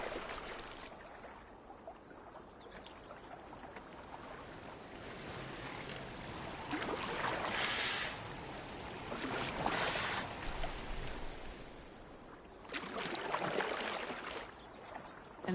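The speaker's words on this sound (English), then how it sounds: "Are you well enough to steer this boat?" Water sloshing and rushing around a Viking longboat in Assassin's Creed Valhalla, a steady wash of waves and spray that swells in louder surges, with no talk.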